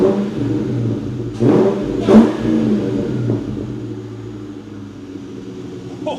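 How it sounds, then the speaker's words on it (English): A Ford Terminator Cobra with a new intake and exhaust revs up close in two sharp blips, then settles into a deep, rumbling idle, with no talk over it. "Fire it up and then let's hear some revs."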